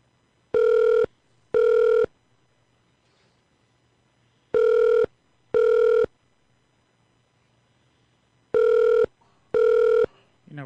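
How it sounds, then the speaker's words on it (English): Telephone keypad tones sound in three pairs of short, loud, even beeps with long gaps between the pairs, as a number is dialed. A quiet low hum runs underneath. "We're going to dial Mike's number, Chaplain Mike's number."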